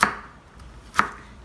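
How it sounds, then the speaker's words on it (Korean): Two crisp knife chops on carrots being finely cut, spaced about a second apart, close and clear with no talking. "당근도 이렇게 잘게 썰어서 준비를 해보겠습니다."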